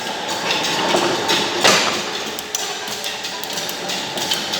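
A metal planer machine tool cutting strokes across a workpiece and forming chips, heard as a loud steady mechanical rumble with repeated sharp taps and knocks as the stroke runs.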